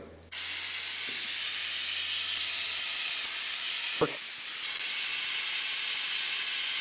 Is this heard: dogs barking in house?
no